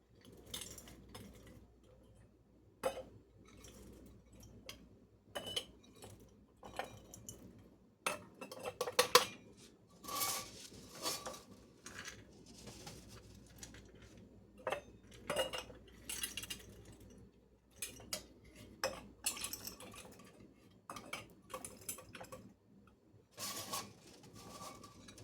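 Dry English peas being scooped into a cup for dividing among eight canning jars, heard as repeated light clinks and rattles of dishes and utensils with short gaps between them, no talking.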